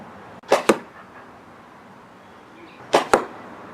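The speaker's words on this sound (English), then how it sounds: "here's the shots with the full arrow system and the hammer." Two pairs of quick sharp releases from a Pocket Shot arrow kit fired with the full arrow system and hammer, each a snappy twang followed by a second crack, close and loud against a quiet background.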